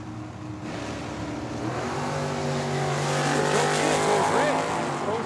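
Drag racing launch at a dragway as a Chevrolet Nova and a Camaro leave the line together, a loud rising engine roar with tire squeal building over several seconds, under crowd noise and an announcer's voice.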